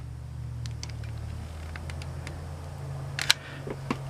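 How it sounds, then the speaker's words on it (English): Road traffic comes through an open window as a steady low rumble and hiss, with a few faint clicks and ticks near the end and no talking. "If you can hear road noises, that's exactly what it is."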